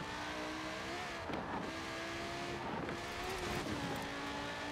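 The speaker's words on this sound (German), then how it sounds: "Sesto Elemento brüllen lassen" Tuned Lamborghini Sesto Elemento in Forza Horizon 4 revving its engine in a few rising bursts over a steady drone, loud and close with no talk.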